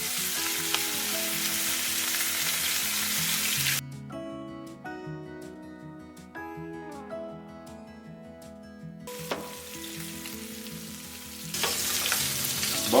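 Salmon fries in butter in a pan, a steady close sizzle that continues throughout, with tonal background music underneath in the middle stretch.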